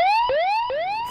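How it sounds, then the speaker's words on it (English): An emergency high gas alarm: a rising electronic siren tone repeats in quick sweeps, three loud cycles of a whooping alarm with no voices. "They are the high gas alarm,"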